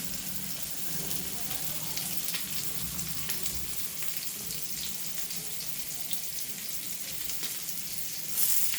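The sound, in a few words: rava-coated pomfret fish frying in a pan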